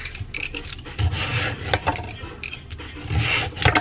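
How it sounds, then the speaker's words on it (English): Carrots being julienned with a knife on a wooden cutting board, a close, steady series of scraping, rasping cuts with light taps, no talking. "And then I'm just gonna julienne my carrots."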